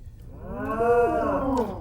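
A person imitates a cow mooing in a kitchen, giving one long, drawn-out, low bovine call that swells and fades over almost two seconds, with no other talking.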